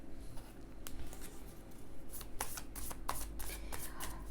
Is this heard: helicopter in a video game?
no